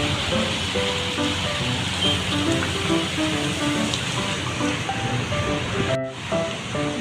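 Flood water rushes in a continuous, steady broadband wash with faint tonal background sounds, then briefly dips near the end.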